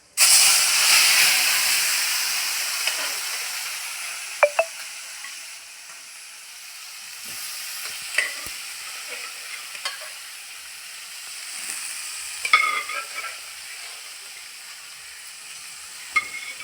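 A spoonful of fennel seeds sizzles in about 100 grams of hot oil in a kadai, giving a loud, steady frying hiss that slowly fades, with occasional sharp crackles and clinks of a utensil stirring.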